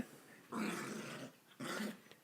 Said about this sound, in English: that dog's gonna bite your fucking hand